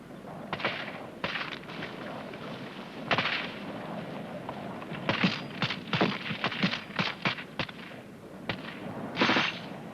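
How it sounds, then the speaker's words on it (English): A British Army section fires rifles and a machine gun rapidly during a fire-and-manoeuvre assault. Sharp cracking shots come in scattered bursts that bunch into quick volleys midway, with no talk over them. "Rifle group, rapid fire! Gun group, on!"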